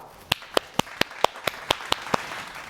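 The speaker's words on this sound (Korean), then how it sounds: "우리 우선 박수부터 쳐볼까요?" Nine slow, evenly spaced handclaps from a small children's church group, crisp and close, over a faint hiss of background noise.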